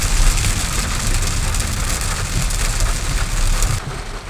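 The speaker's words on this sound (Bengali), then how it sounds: "প্রচন্ড বৃষ্টি হচ্ছে" Heavy rain falling hard and steadily, a dense close roar of drops with no letup and no talk.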